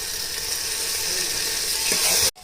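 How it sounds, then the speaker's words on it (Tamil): Ginger garlic paste frying with onions and green chillies in a hot pan for mutton biryani gives a steady, close hiss of sizzling oil that cuts off abruptly at the end. "வெங்காயம், பச்சை மிளகாய். இதில் இஞ்சி பூண்டு பேஸ்ட் போட்டுக்கணும்."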